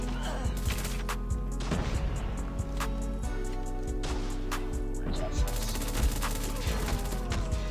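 Rapid bursts of MSMC submachine gun fire in Call of Duty Mobile, loud and sustained across the whole stretch with sharp cracks and impacts, while a player shouts over the shooting.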